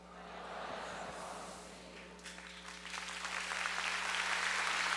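An audience at a Catholic prayer gathering led by Padre Léo applauds the Gospel reading. A dense wash of clapping swells steadily and grows louder toward the end, with faint voices mixed in.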